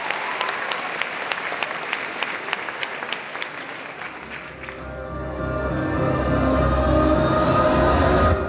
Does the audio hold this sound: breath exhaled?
no